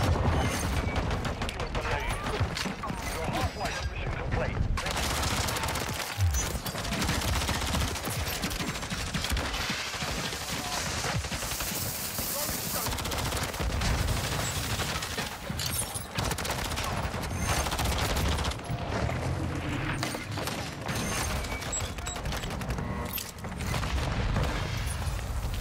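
Constant gunfire and explosions from Modern Warfare 3 multiplayer, a dense, loud barrage of rapid shots and booms running without pause, with faint talking occasionally beneath it.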